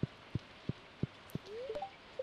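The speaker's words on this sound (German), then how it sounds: "Ach ja, es regnet ja heute." Light rain in Stardew Valley, heard as evenly spaced soft drip taps over a faint wash, with a few brief tonal game chimes near the end.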